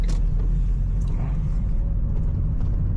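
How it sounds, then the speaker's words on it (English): A manual car's engine rumbles low and steady from inside the cabin as it drives through a turn, a constant droning hum with no speech. "Now add a little bit of throttle and third gear."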